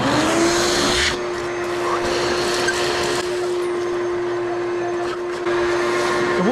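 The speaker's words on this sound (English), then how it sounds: "I want to use my shop vac and kind of clean some of this up." A shop vac cleans debris off a free 1983 John Deere tractor engine, its motor holding a steady, loud whine with rushing airflow that runs without a break for several seconds.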